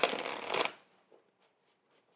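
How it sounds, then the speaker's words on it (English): A deck of playing cards is shuffled with a quick riffle burst at the start, followed by a few faint soft card taps in a quiet room. "Excuse me while I shuffle my deck here."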